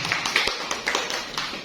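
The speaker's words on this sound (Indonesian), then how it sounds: "kita kasih tepuk tangan dulu Bang Ibu" Audience at a school teachers' positive-discipline dissemination session clapping hands, a short burst of scattered, uneven claps close by and moderately loud.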